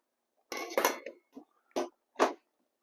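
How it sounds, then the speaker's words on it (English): Soup beans being stirred in a pot produce a handful of separate metallic clinks and scrapes from a utensil against the pot, close and fairly quiet, spaced irregularly over a few seconds. "give them a good stir"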